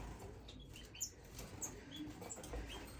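Small birds in an indoor bird room, with soft wing flutters and a few faint high chirps over a quiet, low background hum.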